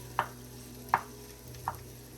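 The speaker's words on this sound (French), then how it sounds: "je vais laisser mes oignons cuire pendant 5 minutes" Onions cooking in oil in a pot, a quiet sizzle under three spaced, soft knocks of a utensil stirring against the pan.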